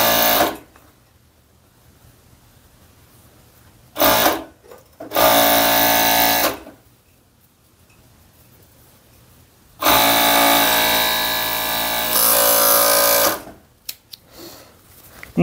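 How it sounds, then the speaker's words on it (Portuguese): A sewing machine stitches the front of fitness Bermuda shorts in two loud, sustained runs of a few seconds each, separated by quiet pauses with faint handling noises, close up and without speech. "vou costurar a parte da frente"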